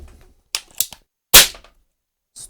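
Several sharp, loud cracks of a Diana P-Five air rifle firing, separated by short silences, one shot clearly louder than the rest.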